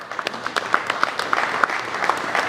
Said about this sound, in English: Give yourselves a nice round of applause for taking the time out.